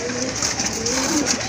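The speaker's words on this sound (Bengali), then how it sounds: "খুবই চমৎকার এক জোড়া কবুতর" A pair of fancy pink-beaked pigeons, a male and a female, coo close by in a low rolling burble, continuous and fairly loud, with faint background voices.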